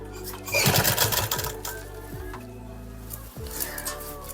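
Lace is stitched onto a dupatta on a sewing machine, which gives a close mechanical whirring run that rises and falls in short bursts, with quieter handling noise in between.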